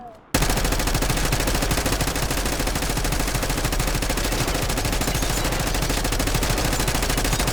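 Rapid, continuous automatic gunfire in a Squid Game-themed video game blasts loudly and without pause after a brief quiet start, a relentless stream of shots.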